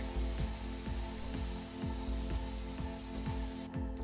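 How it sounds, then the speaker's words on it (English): A steady hiss of a paint sprayer spraying primer on a wooden dresser runs throughout, with a motor hum and rhythmic clicking pulses repeating beneath it. "now I'm gonna just spray my normal primer"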